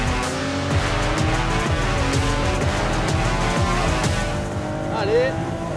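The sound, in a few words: Ferrari 296 GTB engine accelerating on track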